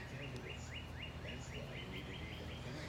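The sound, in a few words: birds singing outdoors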